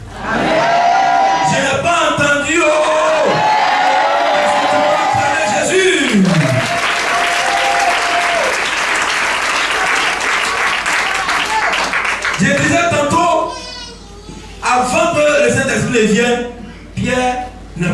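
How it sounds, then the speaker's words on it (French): Church congregation at a French Sunday service loudly cheering, whooping and applauding for Jesus, a dense crowd roar that builds and holds, with a preacher's amplified voice over it at the start and again near the end. "Est-ce que tu peux acclamer Jésus?"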